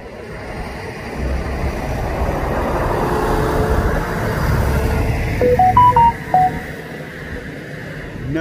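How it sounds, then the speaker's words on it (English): A vehicle rumbles past, swelling and fading, while a short series of electronic beeps from a phone alert sounds near the end. "That was the sound of me getting a message and a truck driving by."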